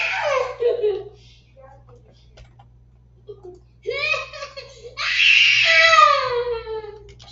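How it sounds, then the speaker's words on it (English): A young child screams and cries in shrill, rising bursts indoors, loud and close, separated by brief quiet gaps with a low steady hum underneath. "Sorry for the screaming, everybody."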